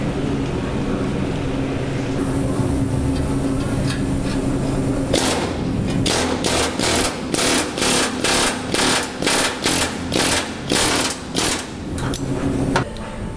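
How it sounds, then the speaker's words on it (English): An air chisel cuts out the floor pan metal of a Dodge Challenger, loud close bursts of rapid hammering in a run of repeated pulses over a background of shop noise. "we've started taking the air chisel and cutting out the floors"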